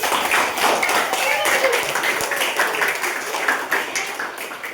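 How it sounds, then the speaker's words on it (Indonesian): Children clap together in a classroom, a dense burst of close applause lasting a few seconds, with scattered voices mixed in. "Tepuk tangan."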